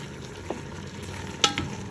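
Meat for dinuguan sizzles and fries in a pot with lemongrass, a steady close crackle with a couple of sharper stirring clinks and scrapes.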